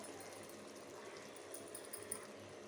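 Milk cream (malai) poured into papaya halwa in a pan on low heat, a steady soft liquid pouring and trickling hiss running throughout at low level, with no talking.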